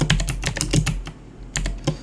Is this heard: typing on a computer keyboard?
yes